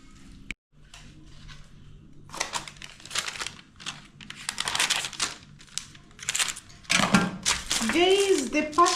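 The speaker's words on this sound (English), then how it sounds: "the parchment papers that I'm using for air fryer" Parchment paper for an air fryer is handled and crinkled up close in uneven bursts of crackling, growing louder toward the end, with a voice partly heard.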